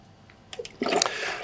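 Water rushes from a KHS Hygiene Flush Box PURE valve during a timed maintenance flush, starting with a few soft splashes and then swelling into a steady, close, loud gush with no talking.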